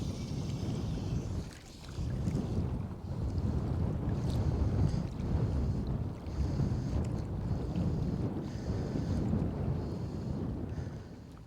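Wind gusting outdoors on a fishing trip in Connemara, a loud, continuous rumbling buffet on the microphone that dips briefly and then surges again, with no speech.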